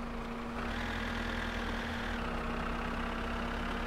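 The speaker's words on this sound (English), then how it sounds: "You gotta love the Kekmet. It is the ultimate tractor." Kekmet tractor in the video game My Summer Car, a 73-horsepower farm machine, runs a steady, low, droning idle with a constant hum and a slight shift in tone partway through, loud and alone.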